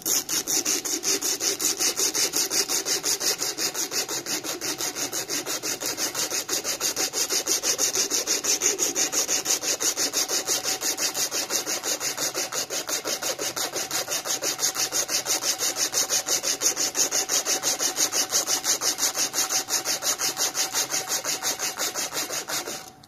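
Wooden knife handle being sanded by hand with 80-grit sandpaper, a continuous, rapid rhythmic rasping of back-and-forth strokes, close and steady, with no talking.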